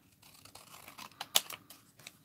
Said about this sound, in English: Might be able to cut it down with the scissors actually.